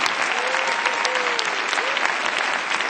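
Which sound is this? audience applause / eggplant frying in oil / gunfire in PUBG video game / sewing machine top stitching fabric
audience applause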